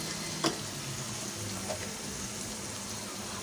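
Yogurt with ground ginger, garlic and onion paste sizzling in hot oil for a Bengali egg korma, a continuous crackling hiss with a couple of sharper pops.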